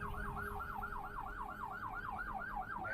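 A police vehicle's siren wails steadily in a rising-and-falling pattern on a street, loud and close, with a low engine or traffic rumble beneath and no talk.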